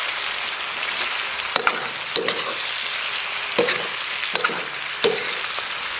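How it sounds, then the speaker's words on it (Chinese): Pork stir-fried in a wok with daylily, wood ear and shiitake mushrooms, giving a steady close sizzle broken by sharp scrapes and clacks of the spatula at irregular intervals, with no talk. "简单煸炒一下。"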